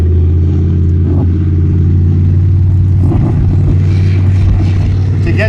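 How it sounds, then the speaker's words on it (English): A military tank's engine rumbles deep and loud as the vehicle drives and takes a corner at a museum, a heavy, steady low drone with rising mechanical roar, close by. "Hear that engine?"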